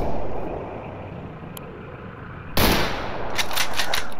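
Gunfire in the shooter game S.T.A.L.K.E.R. erupts as a loud, close burst, followed by several rapid shots cracking out over a rumbling in-game ambience.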